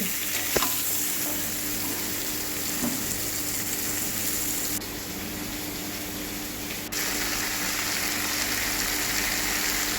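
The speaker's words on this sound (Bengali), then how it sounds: "আমি মাছের তেলে সবজিটা দিয়ে দিয়েছি ঝিঙে সজনে ডাঁটা আর বেগুন একটু লবণ দিয়ে ভেজে নেব" Ridge gourd, drumstick and brinjal fry with a little salt in oil left from frying fish, a steady close sizzle that continues evenly throughout with no speech.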